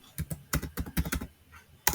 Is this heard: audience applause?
no